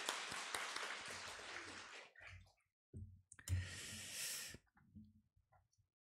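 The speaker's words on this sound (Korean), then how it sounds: "우리 아가페 찬양대 힘찬 박수 부탁드립니다" A church congregation applauds the Agape choir at a Wednesday service, a close burst of clapping that stops abruptly, then a second shorter round of clapping after a pause.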